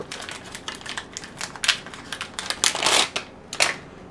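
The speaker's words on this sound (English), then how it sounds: "we'll just cut it open with a pair of scissors" Scissors snip open the plastic packaging of an Arduino prototyping card from an Elegoo starter kit, a close run of crisp clicks and crinkly cuts in uneven bursts, with no talk.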